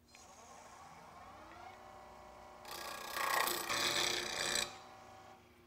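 Antler being cut with a hand tool in a woodworking shop, a faint rasping scrape that swells into several seconds of louder, rough strokes before stopping abruptly, close by and alone.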